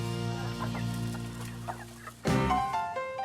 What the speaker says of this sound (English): Chickens eat small amounts often